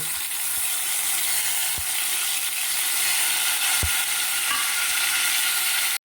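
Soaked urad dal hitting hot oil with asafoetida and black mustard seeds, a loud continuous close-up sizzle with a few dull knocks from stirring.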